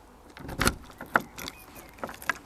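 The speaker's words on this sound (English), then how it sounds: "Your door, to lock your door, it's one of the little keys." Small keys jangling at the door of an Elddis Signature 196 caravan, a few separate metallic rattles and clinks in quick bursts, close by, with no talking.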